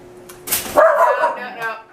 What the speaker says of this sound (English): she'll start barking